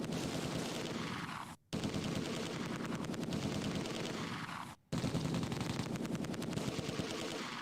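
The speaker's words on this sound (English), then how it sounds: "30 cal is shooting at who?" A .30 cal machine gun hammering out long sustained bursts in Close Combat 2: A Bridge Too Far, dense rapid fire with two brief gaps between volleys, loud and continuous with no talk.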